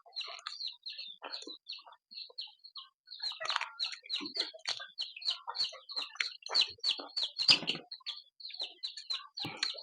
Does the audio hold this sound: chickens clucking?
yes